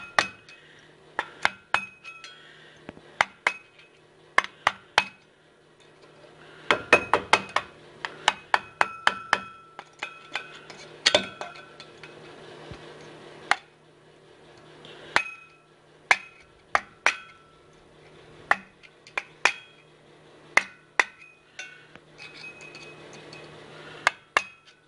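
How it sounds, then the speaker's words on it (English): Sharp metallic taps of a screwdriver struck with a hammer on an outboard motor prop shaft, a long irregular series of close, loud clinks in bursts and single hits with no talking. "you want to get a screwdriver and a hammer"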